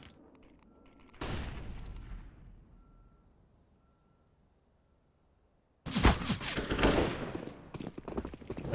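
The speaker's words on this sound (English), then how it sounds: "Early shots being taken." A burst of gunfire from a Counter-Strike match on the Train map, with a scattered opening shot and then a loud dense volley in the last few seconds, and near silence between the two.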